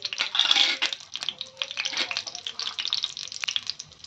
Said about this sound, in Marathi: आता तेल तापलंय, यामध्ये सगळ्यात पहिले आपल्याला घालायची जिरी।